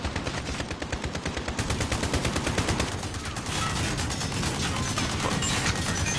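A Call of Duty gun fires in a rapid, evenly spaced automatic stream, loud and close, then blurs into a denser wash of gunfire and noise near the end, with no talking.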